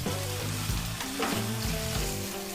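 Ginger garlic paste sautés in hot oil for a Hyderabad biryani masala, giving a loud, close, continuous sizzle and crackle with occasional stirring knocks.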